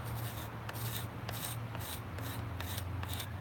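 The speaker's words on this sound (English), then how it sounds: "I basically just take the knife and I scrape off" A knife blade scrapes old residue off a surface in steady, rasping back-and-forth strokes, close and continuous, with a low hum running underneath.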